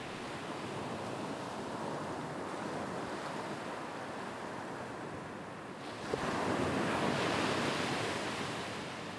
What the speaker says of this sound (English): Then you wade into the surf. Feel the rhythm of the sea on your legs.